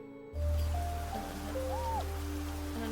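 Rain falls in the video game Niche, a steady, soft hiss of drops on the ground that begins abruptly and continues evenly, with a low hum and faint tonal game sounds beneath it.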